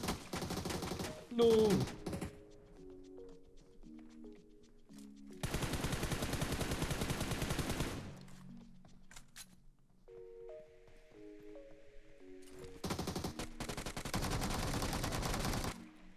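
PUBG Mobile gunfire in bursts of rapid automatic shots, loud and close, broken by stretches of quieter tonal game sounds, with a brief spoken word near the start.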